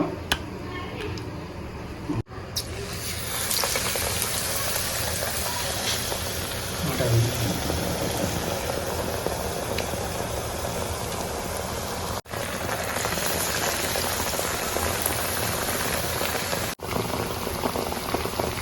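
Appalam bajji, papad dipped in batter, deep-frying in hot oil at a tea-shop snack stall, giving a dense, continuous bubbling crackle close by throughout, with a voice talking over it.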